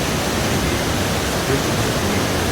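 Water from the Veliki Slap waterfall at Plitvice Lakes National Park in Croatia roars as a dense, constant broadband rush with no break and no voices.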